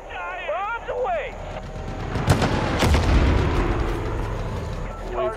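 Bombs burst with heavy booms and rumbling blasts in the video game Far Cry 5, following early voices, with the rolling explosions filling the middle of the clip.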